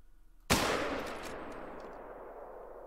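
A single loud rifle shot from a .270 in the hunting game theHunter: Call of the Wild, a sudden sharp crack followed by a long rolling echo that slowly fades.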